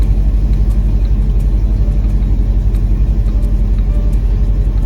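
Mercedes ML55 AMG with a 722.6 automatic gearbox, its engine holding a steady, loud, close low rumble and hum with no clear change through the shifts, and no one talking.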